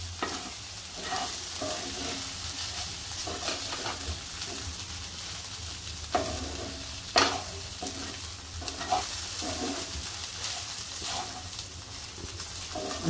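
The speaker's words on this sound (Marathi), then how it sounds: "भेंडी शिजल्यावर नीट मिक्स करायची आहे" Okra for a thecha bhendi dish cooks in a pan with crushed peanuts, a steady sizzle under repeated spatula stirs and scrapes, a few louder knocks standing out, close by and with no talking.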